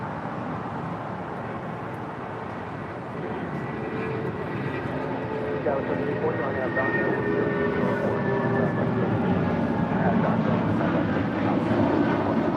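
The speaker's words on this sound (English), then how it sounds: "That is Volaris flight 4331 heading to San Salvador." A Volaris Airbus A320neo departs LAX for San Salvador with a steady, moderately loud jet rumble that swells slightly toward the end, carrying on unbroken throughout.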